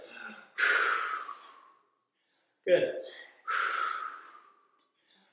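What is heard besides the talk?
exaggerated exercise breathing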